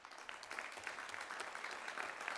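Applause from an audience at a town council installation session in Meaux, dense steady clapping filling the room at moderate level throughout.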